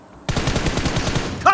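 Rapid automatic gunfire from the mobile game PUBG bursts in abruptly and rattles on in a fast, even stream of loud shots, with a brief voice near the end.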